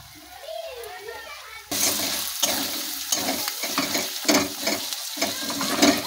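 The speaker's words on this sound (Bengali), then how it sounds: "দিয়ে এটাকে আবারও একটু কষিয়ে নিতে হবে।" Mutton masala with chili powder being sautéed in a pan: after a quiet opening, loud continuous frying sizzle starts abruptly, broken by repeated rhythmic stirring scrapes close by.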